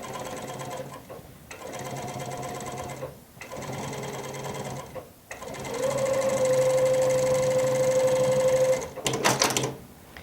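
A sewing machine stitches a twist cord in several runs of fast, rhythmic whirring, with short pauses between them and a longer, steady run near the end.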